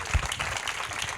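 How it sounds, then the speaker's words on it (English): An audience at a festival talk applauds the creators on stage, a dense patter of many hands clapping at once, moderately loud and continuous for a short burst with a faint voice underneath. "A big applause for these people."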